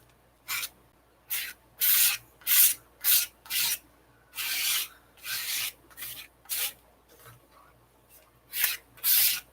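Leftover paint scraped across a postcard in about a dozen short, rasping strokes, each a brisk close scrape separated by brief pauses, no voices.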